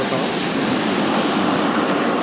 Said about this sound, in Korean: 파도가 이렇게 많이 치는 거 아닌가 싶습니다.